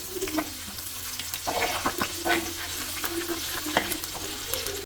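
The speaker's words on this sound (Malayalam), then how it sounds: "ചൂടായ വെളിച്ചെണ്ണയിലേക്ക് നീളത്തിൽ എരിഞ്ഞു വെച്ച വെളുത്തുള്ളിയും ഇഞ്ചിയാണ് ആദ്യം ഇടുന്നത്" Long-sliced garlic and ginger sautéing in hot coconut oil in a clay pot, a steady close sizzle with repeated scraping stirs throughout.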